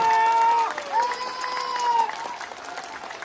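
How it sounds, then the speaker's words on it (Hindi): An audience at a Jharkhand speech event breaks into applause with some cheering and crowd noise, loud at first and then easing off, with tonal sound mixed through the clapping. "साहब यहाँ ताली बजनी चाहिए, जोरदार बजनी चाहिए"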